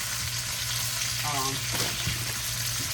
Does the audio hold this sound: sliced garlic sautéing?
yes